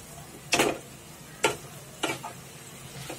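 Okra (bhindi) sabzi stirred in a pan with a spatula: three or four distinct scraping strokes spaced about a second apart, each a short sizzling swish, fairly close, with a faint background hiss between them.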